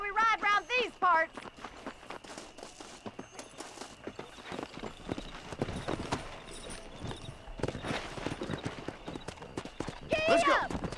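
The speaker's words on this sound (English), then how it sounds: "Una bella gara con Bonnie a cavallo." Horses clip-clop at a steady pace during a race with Bonnie in the video game Red Dead Redemption, hooves thudding rhythmically under speaking voices, with a whinny at the start and another near the end.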